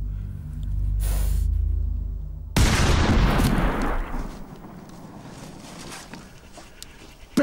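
A Desert Eagle pistol fires a single heavy shot at a cow, a loud abrupt blast that decays over a few seconds, preceded by a low rumbling swell.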